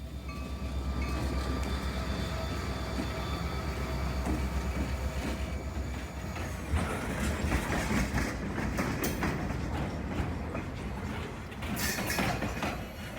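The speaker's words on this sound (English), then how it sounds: "the train is again approaching" A cement local freight train rolls closer with clattering wheels and mechanical rattling, building in intensity with occasional metallic squeals.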